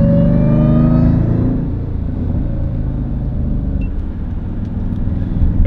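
A 710 PS Jeep Grand Cherokee Trackhawk SUV downshifts, its supercharger whining as a loud tonal layer over the engine, then easing into a deeper steady rumble that swells slightly at the end; no talking.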